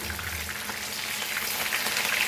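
Steady crackling sizzle of battered prawns frying in hot oil for tempura, close up and continuous, with no voices.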